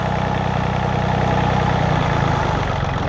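A John Deere 855 compact tractor's three-cylinder diesel idles steadily and loud up close while an injector is bled, the motor running rough with a stumbling, uneven beat.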